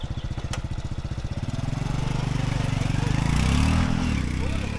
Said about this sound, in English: So he's 11 years old riding a bike.